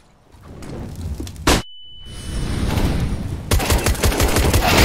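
Rapid gunfire in Counter-Strike: Global Offensive, with a burst of close, loud shots, a sudden cut to near silence, then a long run of dense, sustained firing, with no talking.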